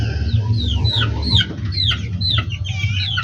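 Chickens in a farm coop cluck and squawk in quick overlapping calls over a low background hum, close and fairly loud with no talking.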